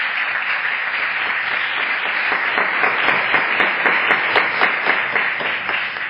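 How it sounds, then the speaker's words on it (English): An audience at Connecticut's Old State House gives veterans a steady round of applause. The dense, even clapping fills the room and stays close and loud for several seconds, with no voices over it. "Please stand up so we can give you a round of applause and thanks for your"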